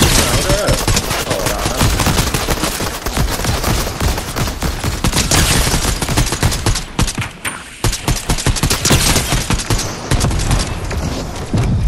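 Loud Fortnite gunfire in a Zero Build match, dense and nearly continuous bursts of rapid shots crackling close by for the whole stretch.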